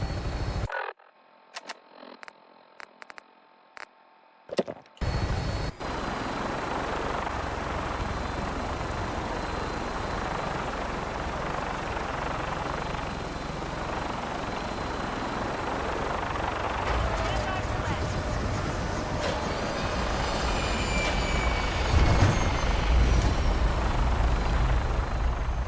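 Aircraft engine roar from the Fallout Equestria video game, a steady loud drone that builds after a brief quieter opening with clicks, rising as the craft takes off and flies, with no voices over it.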